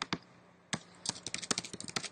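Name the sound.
typing a web URL on a computer keyboard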